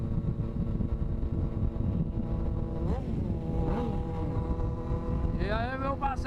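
Motorcycles idling and revving at a bike meet in Fortaleza, including a Honda CB 300 and a Falcon, a steady dense engine drone with a couple of rising revs near the end and faint talk in the crowd.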